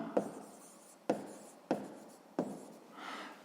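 A pen or pencil on paper makes four distinct short writing strokes at a steady pace, each a sharp onset fading into a scratchy drag, close and quiet, with a softer rubbing stroke at the end.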